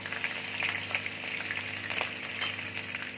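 Chopped garlic frying in hot mustard oil, a close, steady crackling sizzle with scattered pops and spits throughout.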